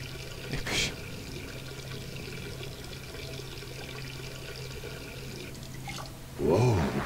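Water in Duke Nukem Forever splashes and trickles softly for several seconds, with a brief louder slosh near the start and a heavier splash at the end, close and with no voices.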